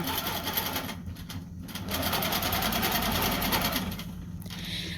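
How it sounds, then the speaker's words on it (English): A longarm quilting machine stitches steadily, a fast rhythmic mechanical whir with a brief dip in the middle before resuming at full pace, close and moderately loud. "I will turn the stitching on here, and I will touch the check mark on my screen"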